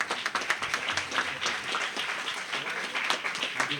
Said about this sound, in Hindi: इनके लिए जोरदार तालियां बजाकर